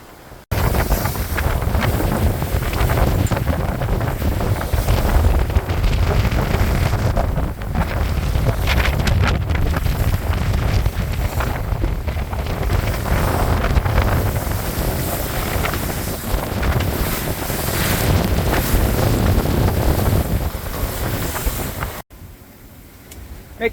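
A sailboat beating through rough, bumpy water off Cuttyhunk, with loud wind buffeting the microphone and waves rushing against the hull in a constant roar that cuts off abruptly near the end.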